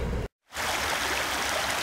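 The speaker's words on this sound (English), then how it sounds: "this is Strawberry Creek up in Idlewild, California" Strawberry Creek in Idlewild, California, rushing steadily and loudly close by, a broad constant water roar broken only by a brief cut near the start.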